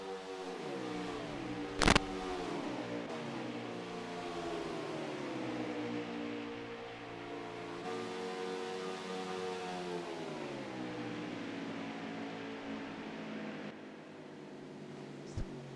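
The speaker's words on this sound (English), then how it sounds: "True NASCAR 550 horsepower right here" NASCAR race car engines with 550 horsepower running on track, a steady droning engine tone with rising and falling pitch as cars circle, a sharp click near the start, heard under a voice.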